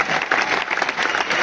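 An audience at a business event in New Delhi breaks into a dense, continuous burst of applause, many hands clapping together briefly and loudly.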